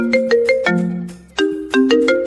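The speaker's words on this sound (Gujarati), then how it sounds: "લે આ તો હુમાનો ફોન આવ્યો" A mobile phone ringtone plays at an ice gola dessert stall in Rajkot, a loud, bright melodic sequence of chiming notes that repeats for a couple of seconds with no one speaking.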